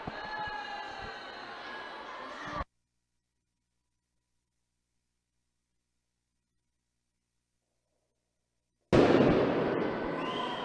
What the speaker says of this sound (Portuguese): Rojões estouram do lado de fora.